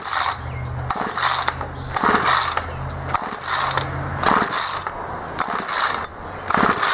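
A Ryobi S430 string trimmer that won't start gets its pull starter yanked repeatedly, each pull a loud ratcheting rasp of the recoil cord and engine turning over, in a rapid irregular series of about six strokes.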